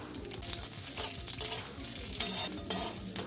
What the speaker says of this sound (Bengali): গ্যাসের জোরটা বাড়িয়ে ওই তেলেতেই পেঁয়াজগুলো ভেজে নেব